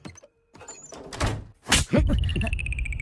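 A door at home is pulled shut with a solid thud and a latch sound, with a short burst of scraping and movement near the start and dramatic film music coming in after it.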